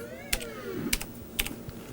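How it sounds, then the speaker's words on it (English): Keystrokes clicking on a Razer BlackWidow X Chroma mechanical keyboard, three sharp distinct clacks spaced roughly half a second apart, close and clear over a faint steady hum. "when you type with it, I noticed right away that the typing is great"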